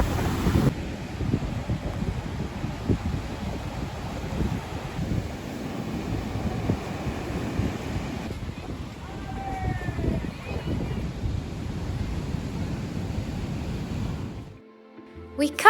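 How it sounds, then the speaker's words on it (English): Wind gusting at Lido San Giuliano beach in Sicily, a steady, fairly loud blustery rush with microphone buffeting throughout. It drops off sharply near the end, and brief faint whistling sounds come through midway. "It got a bit windy, but it was so relaxing."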